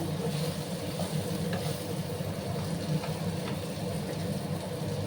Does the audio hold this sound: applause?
no